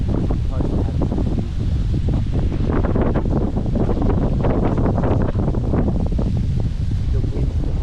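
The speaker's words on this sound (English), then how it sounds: "I can't send out my drone today because it's so windy. We had some pretty full-on gusts." Strong wind gusts batter the microphone on an exposed mountain hike in Main Range National Park, Queensland, a loud, continuous buffeting roar that swells and surges throughout.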